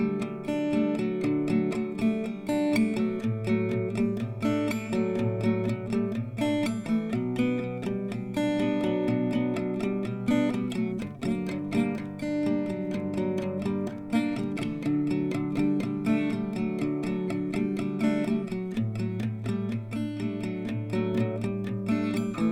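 Acoustic guitar plays a melody, sustained strummed chords under picked melodic notes, continuous and even in level, with no talking.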